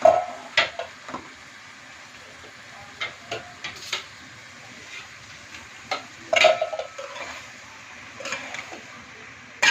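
Egg fried rice without chicken being stirred and mixed in a pan, with scattered scrapes and metallic clinks of a utensil against the pan, fairly close, amid quiet pauses.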